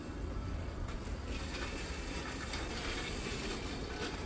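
Roboup T1200 robotic lawn mower driving across the grass to missed spots, a steady close rumbling whir of motor and blades, with no pauses or voices.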